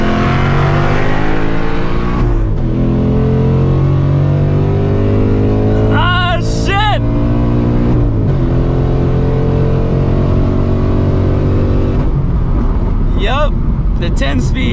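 Tuned S650 Ford Mustang GT with a 10-speed automatic accelerating hard in a race, a loud close engine roar climbing through several sharp gear shifts, heard under excited talking.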